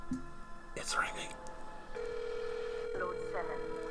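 A telephone ring tone plays over speakerphone, steady electronic tones coming through a phone speaker in a room, with faint voices.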